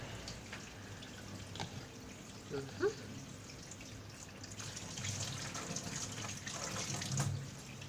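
Tap water running in a sink while beef pieces are rinsed, a faint steady flow with light splashes, a voice speaking softly in the background.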